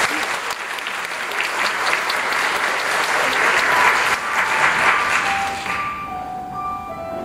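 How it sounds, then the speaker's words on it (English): Sustained applause from a crowd at a birthday celebration, a dense steady wash of clapping that fades out near the end as a few tonal notes of music begin. "Give them a big round of applause."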